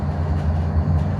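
Interior rumble of a Koleje Śląskie passenger train running from Gliwice through Katowice toward Pyrzowice airport, a steady low droning hum with faint rhythmic rolling, heard from inside the carriage without talk.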